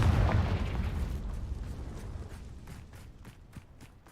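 A Confringo spell explosion in the video game Hogwarts Legacy lands as a heavy rumbling blast that fades slowly, with crackling debris pops scattered through the tail.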